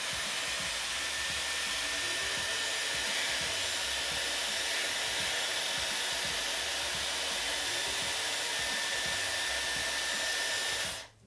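Dyson Airwrap hair styler blowing steadily, a loud continuous airy whoosh with a high whine, running alone and close for several seconds before cutting off abruptly at the end.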